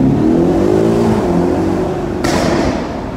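Audi RS6 Avant engine revving loudly up close with a steady, dense exhaust roar, a brief brighter burst near the end suggesting exhaust pops and crackle as the note settles.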